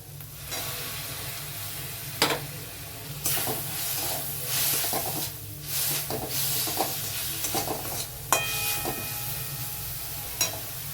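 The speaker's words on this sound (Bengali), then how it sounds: "এবার সামান্য লবণ দিয়ে পেঁয়াজগুলোকে ব্রাউন ভাবে ভাজতে লাগবে" Onions browning with salt and ginger-garlic paste in a pan for mushroom masala give a continuous close sizzle, broken by repeated scraping and clacking of a stirring spoon, with no talk.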